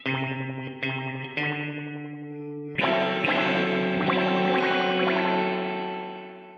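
Distorted guitar chords ring out through a Donner spring reverb pedal, with a wobbly, metallic boing and echoing tail as new strums hit.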